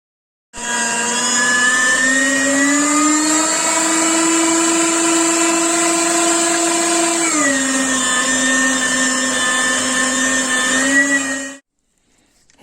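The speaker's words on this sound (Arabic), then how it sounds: "أثرمها بمحضرة الطعام أو بماكينة اللحم، أثرمها وأرجع لكم لأن صوت الماكينة كلش عالي" A food processor or meat grinder mincing chickpeas for falafel gives a loud, steady motor whine that holds for about eleven seconds. Its pitch dips briefly partway through, then it cuts off abruptly.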